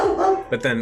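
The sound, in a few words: dogs barking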